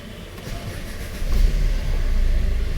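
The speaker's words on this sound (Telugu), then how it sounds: "బండి అయితే ఒకసారి స్టార్ట్ చేసి చెక్ చేద్దాం." A second-hand Maruti Brezza starts up nearby: a quiet lead-in, then the engine catches about halfway through and settles into a louder, steady running note.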